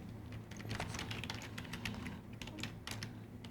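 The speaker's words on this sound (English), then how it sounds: "I'm putting in computer hardware as a commodity and clicking on search" Fast, steady keystrokes on a computer keyboard as a search keyword is entered, close and fairly quiet, with no talking.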